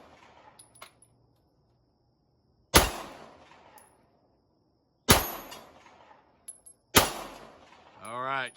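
Three loud, sharp pistol shots from a 1916 German Luger, spaced a couple of seconds apart outdoors, each followed by a short decaying echo, with quiet voices heard faintly between them.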